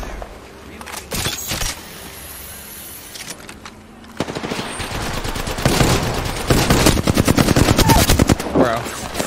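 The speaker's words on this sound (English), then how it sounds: "I'm getting shot by another team." Automatic gunfire from another team in a ranked video game match starts sparse, then builds into dense, rapid bursts that grow louder toward the end, sounding close and aggressive.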